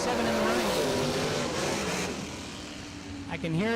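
Bracket drag racing car at the start line, its engine loud and close with sharp revving bursts as the throttle is blipped, then a brief dip before it roars up again.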